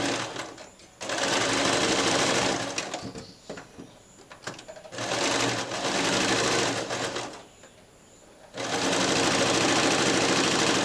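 A sewing machine stitches a quarter-inch seam on a garment in three long, loud, close bursts of rapid needle clatter, separated by short pauses.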